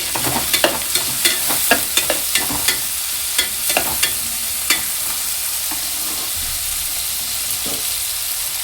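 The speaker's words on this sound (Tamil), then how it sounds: "நல்லா வதங்கட்டும்." Vegetables sauté in a pan for a prawn curry, with a constant close sizzle of frying and irregular scraping clicks as a spoon stirs, quieter toward the end.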